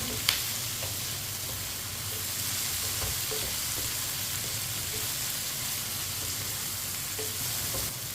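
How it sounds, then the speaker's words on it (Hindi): Tomato and onion fry in a pan, giving a steady, even sizzle with a few light stirring taps, close and moderate in level, with no voices. "टमाटर और प्याज डाल के 2 मिनट के लिए इसी तरह फ्राई कर लेना।"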